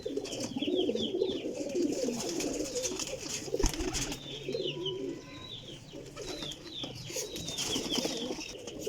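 Dum-band teddy pigeons cooing in a loft, soft repeated coos and chirps with a brief flap or bump midway, fairly faint and steady, no talking.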